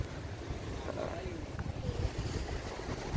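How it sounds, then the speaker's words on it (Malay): Large ocean waves washing against the Aceh coast, which faces the Indian Ocean, heard as a faint, low rumbling surf mixed with gusty wind buffeting the microphone. "bagus nih ombaknya besar kali ini saudara"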